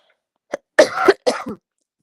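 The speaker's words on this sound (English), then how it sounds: "I'm getting a cough" A short burst of coughing close by: one small cough, then two heavier, rough coughs in quick succession, with no talking.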